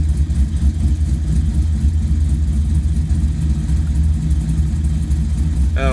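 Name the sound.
car engine idling while warming up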